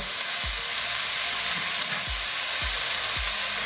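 Doogi fries in a pan with a constant loud sizzle while a utensil stirs it, scraping the pan in about five regular low thumps that stand out over the frying hiss, with no talking.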